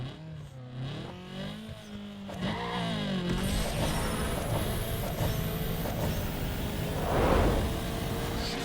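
A VW Golf GTI 1.8L I4 engine revs hard in Need For Speed Underground 2 during a drag run, climbing pitch through quick gear changes into a loud, sustained roar with a surge near the end.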